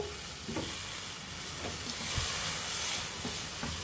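Grated raw papaya for zarda being stirred in hot sugar syrup, a steady bubbling sizzle with soft scraping strokes of the spoon, close and continuous with no talking.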